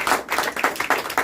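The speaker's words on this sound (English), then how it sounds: "Please clap 100 times more loudly." Clapping hands at a shloka recitation and speech competition, a brief burst of quick rhythmic claps, close and fairly loud, with no voices.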